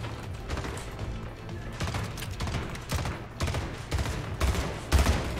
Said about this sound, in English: Why do I hear so many gunshots